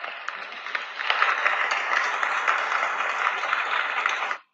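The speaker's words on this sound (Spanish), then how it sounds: "Clap for you. Aplausos para ustedes." Children in a first-grade English class clap together for several seconds, a dense, steady patter of small hands that stops abruptly at the end.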